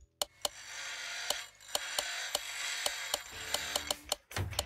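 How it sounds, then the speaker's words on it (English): Rapid mouse clicks while playing Car Mechanic Simulator on a Hot Wheels Mustang restoration, sharp close ticks in irregular quick bursts over a soft steady background hum. "Like you can hear me clicking."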